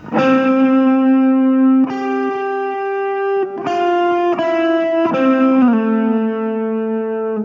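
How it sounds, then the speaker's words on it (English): An overdriven electric lead guitar plays a slow, sustained melodic line, notes ringing long with a thick distorted tone. "sort of a lead guitar playing a very nice slow melodic riff"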